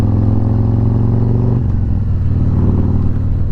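A loud, close Harley-Davidson Milwaukee-Eight 107 motorcycle engine with an upgraded cam and exhaust idling with a deep, lumpy rumble that dips in pitch partway through.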